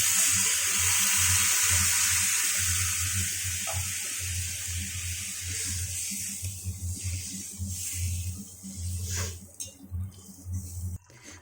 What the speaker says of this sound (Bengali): জল অ্যাড করে দিলাম